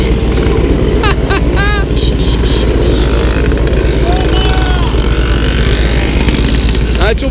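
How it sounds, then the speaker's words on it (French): Mobylette mopeds buzz past one after another at a crowded rally, with loud continuous two-stroke engine drone and rising revs nearby; people shout and talk over the din. "Et c'est un Solex, c'est le premier que je vois passer."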